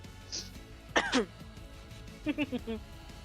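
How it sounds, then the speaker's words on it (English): Two short bursts of throat-clearing coughs, the second a quick cluster of three or four, close and fairly loud against a quiet background. "I, for real, was coughing"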